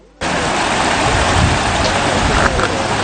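Heavy rain from a storm that has lasted three days and flooded homes and roads, pouring as a loud, dense, continuous hiss that starts abruptly and holds steady throughout, with no voices.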